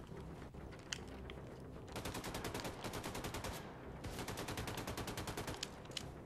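Rapid automatic gunfire from the shooter Wolfenstein II: The New Colossus comes in two sustained bursts of evenly spaced shots, with a few scattered single reports before and after, fairly faint overall.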